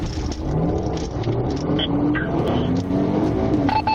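A fleeing car pulls away during a police chase, caught from a patrol car dashcam: a loud, continuous engine roar that climbs as it accelerates, with a brief voice underneath.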